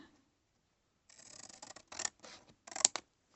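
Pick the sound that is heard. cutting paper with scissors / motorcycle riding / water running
cutting paper with scissors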